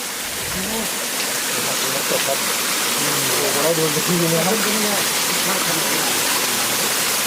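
Steady roar of a natural forest waterfall fills the scene, loud and constant, while someone talks over it partway through.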